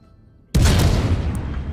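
A naval gun salvo in the World of Warships video game, set in a French cruiser battle. After a quiet moment a single heavy boom hits suddenly and then rumbles and fades.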